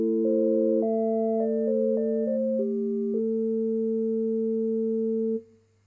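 A Farfisa Pergamon organ on an 8-foot drawbar voice played through its static speaker, a pure sustained tone shifting through several held notes before a final long note cuts off, alone without talk.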